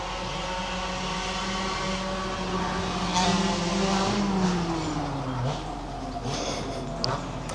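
Small 50cc mopeds ridden by kids buzz nearby, with a droning engine note that rises and falls as they pass, moderately loud and continuous with no talk.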